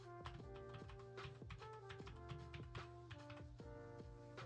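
Rapid typing on a computer keyboard during a Gen V survival game session, steady clustered key taps over a constant low hum and tonal game music.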